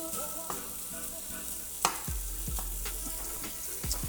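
Smoked sausage sizzles and browns in a pan, a steady close frying hiss with the rendering fat crackling, broken by stirring clatters, with no talking.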